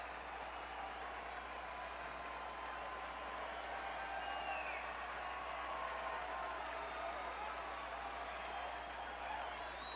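A distant, faint baseball crowd at Wrigley Field cheers and applauds in a sustained wash of noise, under a low steady hum, during a Marlins at Cubs game.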